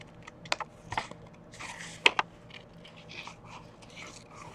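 Scissors snip quickly through paper for an art journal page, a close, irregular string of short crisp cuts and rustles at moderate volume, with no talking.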